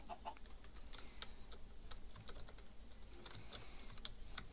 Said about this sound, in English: Chickens just love me.